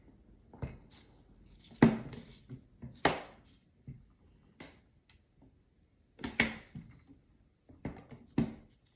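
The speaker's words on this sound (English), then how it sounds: "we're going to start by cutting the melt and pour soap into cubes" A serrated knife chops melt-and-pour soap into cubes on a hard surface in scattered, irregular thunks, fairly quiet and close.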